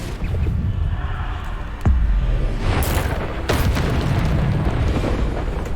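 Spell blasts in a Harry Potter video game, including Bombarda, Depulso and Descendo explosion spells: a continuous rumbling roar with a sharp booming hit near two seconds and further bursts around three seconds, loud and sustained throughout.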